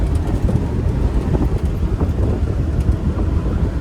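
A rebuilt Land Rover Defender 90 drives steadily, its engine and road rumble a continuous loud low drone from inside the cabin, with wind buffeting and rattles throughout and no talk.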